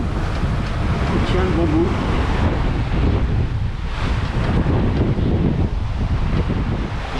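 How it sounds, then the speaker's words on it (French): Steady wind and waves at sea aboard a sailboat nearing Grenada on an Atlantic crossing, a loud continuous rush and wash filling the whole stretch while someone speaks briefly. "il y a toujours un peu de vent, on avance bien"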